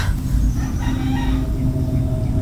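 Chickens cluck amid steady farmyard noise, with a rooster crowing partway through.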